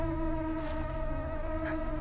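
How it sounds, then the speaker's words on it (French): Steady high whine of a tiny flying insect, like a gnat or midge, buzzing continuously and fairly close throughout, with no talking over it. "Vous entendez ces bourdonnements?"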